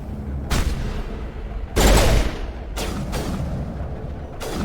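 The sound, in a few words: grenade explosion and gunfire in Mass Effect video game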